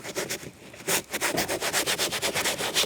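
Steady back-and-forth rubbing of 320 grit sandpaper scuffing a 2016 Subaru Forester door panel before painting, a close, even rhythm of strokes after a brief pause, with no talking.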